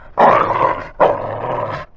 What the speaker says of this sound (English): Again neighbors with their dog. Just a second. Could you calm down your dog?